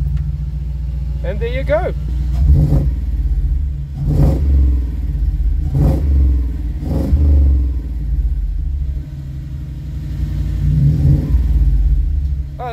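A Toyota Hilux engine starts and is revved in several sharp throttle blips over a steady low idle rumble, with a person speaking briefly.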